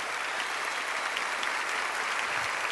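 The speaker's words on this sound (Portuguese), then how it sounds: "Pode aplaudir para valer, meu irmão. Aplauda ele aí" Dense, steady applause from a congregation at a Catholic priest's religious talk fills the whole stretch, loud and continuous with no speech over it.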